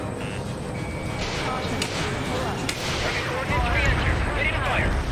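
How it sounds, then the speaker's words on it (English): Missile launches and explosions in the Ace Combat 7 video game: a steady roar of rumbling blasts and whooshing launches over a continuous background, with radio voices talking faintly underneath. "Missile launched."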